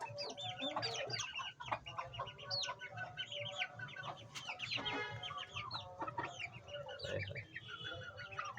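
Aseel chickens, a fighting breed kept in Amritsar, cluck and chatter in a dense, busy chorus of several birds close by, with overlapping calls and occasional sharper squawks throughout and no talk.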